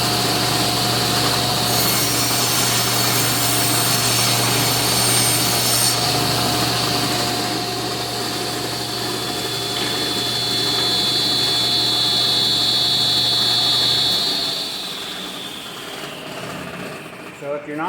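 A power saw cuts a groove in scrap wood fed with a push stick, giving a loud, steady whine with a constant motor hum that runs unbroken before winding down near the end.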